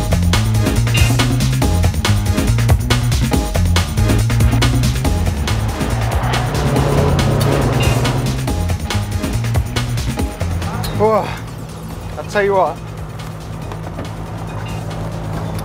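Tuned Peugeot RCZ diesel race car with a roll cage on a hot lap, its engine droning loud and steady from inside the cabin, rising and shifting in pitch with gear changes, while someone talks over it.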